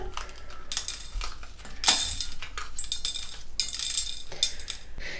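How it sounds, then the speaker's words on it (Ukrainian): A knife taps and slices a bell pepper into strips against a cutting board in quick, uneven strokes, with occasional light clinks nearby. "І тепер нарізаю перець"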